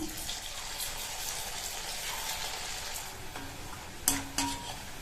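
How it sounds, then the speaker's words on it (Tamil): Raw plantain slices deep-frying in oil give a steady, moderately quiet broadband sizzle, with a couple of brief louder clatters near the end as pieces are stirred or lifted. "வாழைக்காய் நல்லா ஃப்ரை ஆயிடுச்சு"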